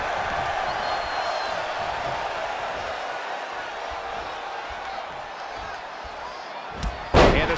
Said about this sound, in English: Big elbow!